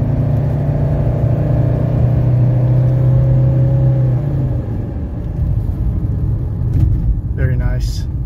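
1985 Mercedes 300CD pulling hard uphill from a stop, a loud rising engine drone heard from inside the car that eases off midway into a lower cruising rumble.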